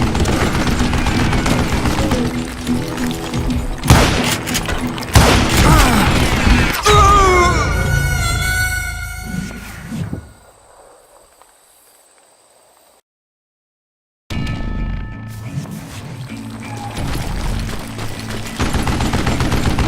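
Rapid gunfire and mechanical reload clatter come from Call of Juarez Gunslinger, dense bursts of shots and fusillades that trail off into a brief silence before the shooting and game noise resume, loud and close.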